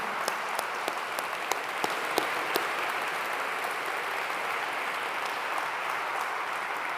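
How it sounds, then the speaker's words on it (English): Audience applause for musicians who played djembe and taiko drums at a university convocation, a steady dense wash of clapping with a few sharper claps standing out, sustained throughout without speech. "Let's give another round of applause to our musician."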